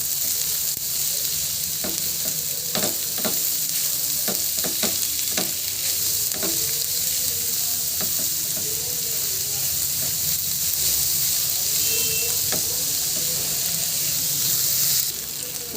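Onions frying in a pan for egg roll, a steady close hiss and sizzle broken by repeated sharp taps and scrapes of a spatula stirring, with a brief murmur of a voice beneath.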